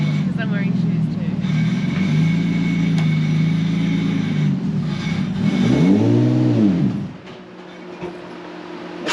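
A Toyota JZX100 with a twin plate clutch and big-power ARTEC and Garrett turbo setup idles and revs as it backs out of a steep driveway, its engine note rising and falling in a loud, near drone before dropping away.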